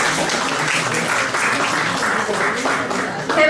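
An audience at a trilingual poetry gathering claps together, a broad sustained patter at even strength, with faint voices mixed in beneath it.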